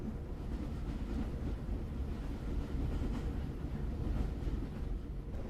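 A passenger train rolls across flat plains, heard from inside a coach as a steady, loud, broadband rumble with faint rhythmic clatter. No voices are heard over it.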